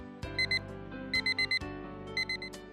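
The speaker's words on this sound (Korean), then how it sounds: "알람이 울렸어요." A digital alarm clock beeps in short bursts of rapid electronic tones, repeating in groups of two to four, over a steady background hum.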